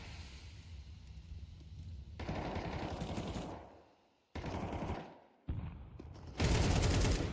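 Gunfire from Counter-Strike 2 during an esports tournament broadcast: loud bursts of rapid automatic fire alternate with short silent gaps, and a heavy, dense volley rounds off the end.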